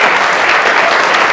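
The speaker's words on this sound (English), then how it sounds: "could you please give him a very warm round of applause" A lecture audience gives a guest a warm round of applause, with dense, loud, sustained clapping from many hands filling the room.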